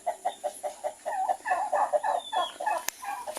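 Rhode Island and Kabir cross chickens clucking in a steady run of short repeated calls, moderately close, with no talk over them.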